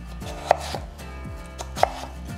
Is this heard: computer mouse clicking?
no